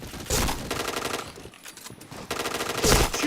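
Gunfire in the shooter game Point Blank: two loud bursts of rapid automatic fire separated by a brief quieter gap, with sharp impact cracks in the second burst.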